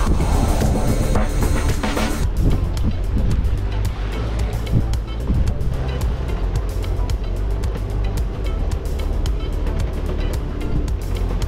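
A boat pounds and bounces through rough waves on a ride down an island toward St. Anne, with a loud, continuous rush of engine, wind and water and repeated slapping impacts against the hull.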